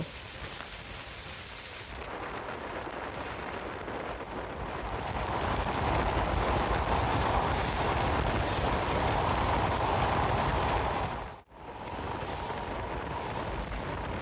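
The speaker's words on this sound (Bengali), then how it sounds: "পদ্মা নদী অতিক্রম করার সময় ট্রেনের গতিবেগ ঘন্টায় পঁচাশি থেকে নব্বই কিলোর মতো ছিল" A Rupashi Bangla Express train crosses the Padma Bridge at about 85–90 km/h, producing a steady, broad roar of rushing wind and rolling rails that swells midway and cuts out in a brief dip before resuming.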